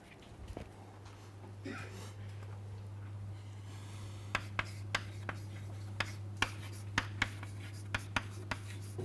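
A definition being written on a board during a probability lecture, a series of sharp taps and short scratchy strokes spaced at irregular intervals over a steady low electrical hum, fairly faint and close.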